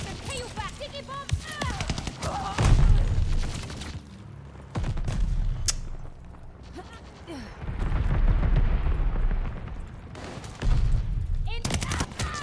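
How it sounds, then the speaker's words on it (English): Bombing run in Call of Duty Vanguard multiplayer, with heavy rumbling explosions and bursts of rapid gunfire repeating across the scene, loud and dense, with game voices calling out at times. "Friendly bombing run on the way."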